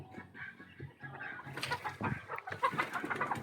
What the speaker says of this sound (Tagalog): Rhode Island yata ang ating manok.